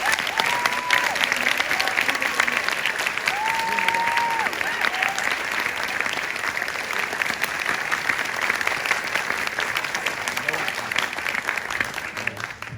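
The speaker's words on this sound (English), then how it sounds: "So we would like to give Brenna a huge round of applause for her efforts" Sustained applause from a crowd at an 8th grade middle school celebration, loud, dense and continuous throughout, with faint voices and a brief whistle-like tone rising above it.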